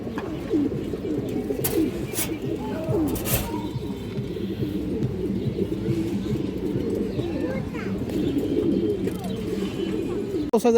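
Low, throaty cooing of a silver female pigeon repeats steadily throughout, close by, with a few faint sharper clicks or flutters in the background.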